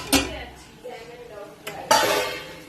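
Jackfruit and potato pieces tumbling into a pan, with a couple of clattering metal knocks as they land and are stirred; fairly close and loud.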